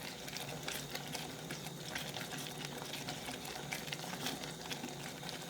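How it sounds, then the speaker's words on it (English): Tomato sauce (tomato concasse) simmering gently in a pot, giving a steady, soft bubbling and hissing texture that continues evenly throughout, fairly quiet and with no voices. "So I'm going to let it simmer just a little bit."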